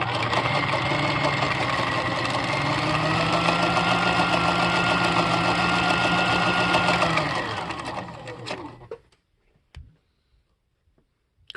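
A restored Husqvarna Viking 6440 sewing machine stitches a cam pattern, its steady mechanical whir and rhythmic clicking running loud for several seconds before winding down and stopping, followed by a few faint knocks.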